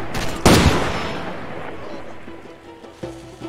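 A sniper rifle cracks in Far Cry 2, one sharp loud shot followed by a long decaying rolling echo, then a second, softer report near the end.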